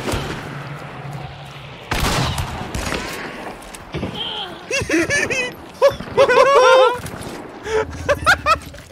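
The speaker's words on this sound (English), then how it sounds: "I shot her with the Sparks and then Flechette her and she died around the corner" Gunfire in Hunt: Showdown, Sparks rifle and Flechette shotgun rounds: a few sharp reports scattered among ambient game noise and chirpy effects, with voices talking in places.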